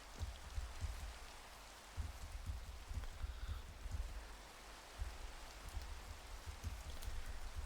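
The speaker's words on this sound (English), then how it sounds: "working in the dark in the rain sucks" Steady rain falls at night outdoors, a soft continuous patter with low thumps, fairly faint and with no talking.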